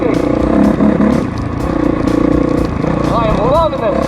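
A Honda CRF450 dirt bike converted into a snowbike and ridden on snow, its engine droning and revving up close, with rising pitch sweeps near the end as it accelerates, and a rider talking over it.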